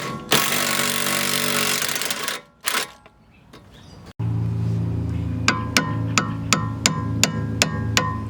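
A power tool rattles loudly on a bolt on the tie rod end of a B6 Audi A4, then after a short pause a steady hum with a run of sharp, evenly spaced clicks, like a ratchet at work.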